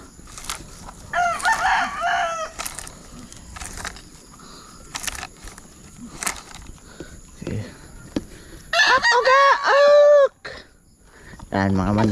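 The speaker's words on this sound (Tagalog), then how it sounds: "Mga manok pang sabong ni Tatay Undo." Fighting gamecocks on a rural Philippine farm crowing and clucking, two long rooster crows near and loud, with scattered clucks, footsteps and people talking between.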